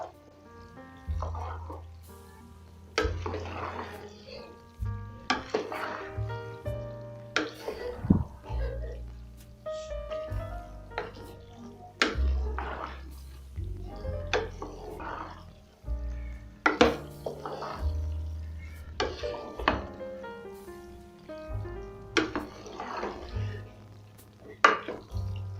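Spaghetti being stirred through sauce in a pan on low heat: soft wet squelches and scrapes with occasional clinks of a utensil, arriving in irregular bursts over a gentle sizzle, with a person talking throughout.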